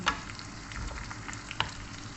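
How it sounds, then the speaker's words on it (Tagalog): Chili frying with onion, garlic and chicken in a pan for homemade shrimp paste, a soft low crackling sizzle with a couple of sharp utensil clinks near the start and again later, no talk. "Kailangan ma fry din yung chili."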